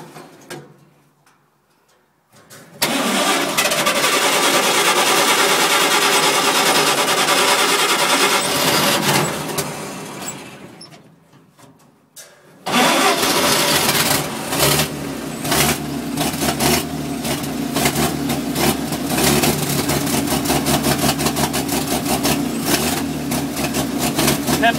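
A cab-over-engine truck cranks loudly and steadily for several seconds, pauses, then catches and settles into a continuous, close, rumbling idle.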